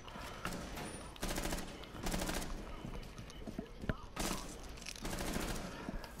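Video game gunfire rings out in rapid automatic bursts as a whole magazine is emptied, several sustained rattling volleys separated by short gaps, with game sounds and muffled voices underneath.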